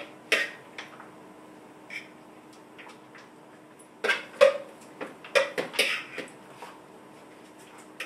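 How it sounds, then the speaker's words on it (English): Clinks and light knocks of a utensil against bowls as tilapia slaw is divided among three bowls, a handful of scattered taps early on and a busier cluster of clatter toward the end, close and moderately loud. "I'm just going to go ahead and divvy it up evenly among these 3 bowls."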